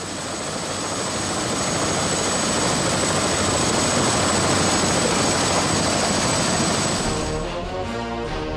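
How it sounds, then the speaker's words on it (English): A helicopter flies over the French Riviera toward Monaco, its rotor and engine a loud, steady, close-up roar heard from inside the cabin throughout, with a slight change in tone near the end. "then take a helicopter ride over the French Riviera and into Monaco"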